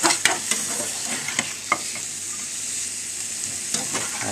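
Frozen Steak-umm beef slices sizzle in a frying pan under a steady hiss while a utensil stirs them, producing a handful of sharp scraping clicks early on before the sizzle carries on alone.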